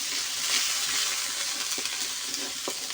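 Salt and turmeric being stirred into spices frying in a pan for a fish curry with pumpkin and stalks, a steady sizzle broken by a few scraping spatula strokes, close and alone.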